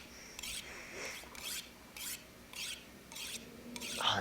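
Rhythmic rasping strokes of a blade drawn across a whetstone in the video game The Long Dark, about seven even scrapes at a steady pace, quiet and close.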